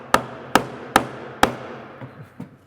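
A car part is tapped to loosen it once its bolts are undone, four sharp, evenly spaced metallic knocks close by, then two softer taps that trail off.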